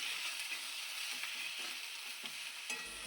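Turmeric, chili and cumin powders sautéing in oil for a Bengali aar fish kalia, a soft close sizzle with a few quiet spatula scrapes and stirs, with no talking.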